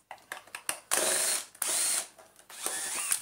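A screwdriver works Torx and crosshead screws out of the plastic housing of a Shark Speed Lift-Away NV680UK vacuum: short clicks, then several bursts of close, whirring power-driver turning with pauses between.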